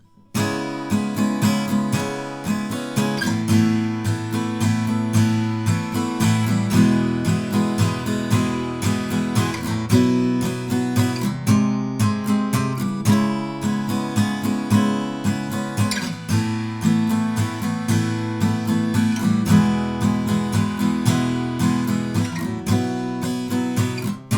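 Steady acoustic guitar strumming through a chord progression, loud and continuous with a driving rhythm and no voices.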